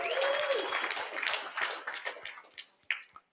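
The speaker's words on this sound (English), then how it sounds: "Let's give a big round of applause for all these guys in here" A room of people applauds in a fairly dense wash of clapping that thins out and fades, ending with a few scattered claps.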